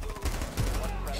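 Shotgun fire in Rainbow Six Siege, a short burst of loud, close gunshot blasts over dense game noise, with a voice talking alongside.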